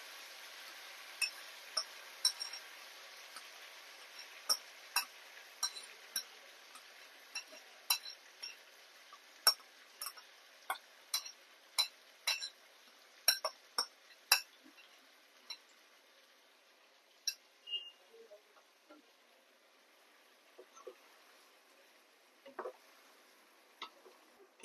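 Fried chicken wings are tossed and mixed in a pan, with a long run of sharp metallic clinks and taps over a faint hiss that thin out toward the end.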